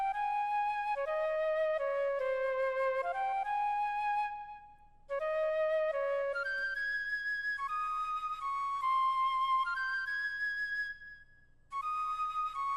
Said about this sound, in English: This is the lead, and it's going to sound like this.